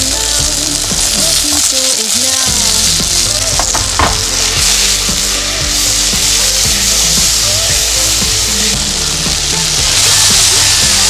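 Tomatoes hit a scorched, very hot pan and stir-fry with a loud, continuous sizzle and crackle, with scraping stir strokes running through it and no voices.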